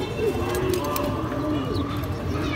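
Domestic pigeons cooing in a loft, soft low burbling calls close by, heard under continuous talk.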